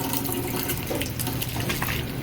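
Warm water runs steadily from a tap into a sink during handwashing, a continuous close splashing hiss with no talking.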